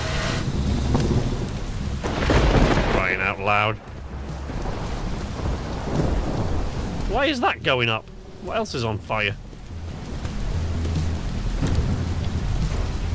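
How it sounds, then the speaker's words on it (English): Steady rain with rumbling thunder pours down through the whole stretch, while someone talks loudly over it, his voice rising and breaking into exclamations. "The rain's going to put that out though, right? It's raining!"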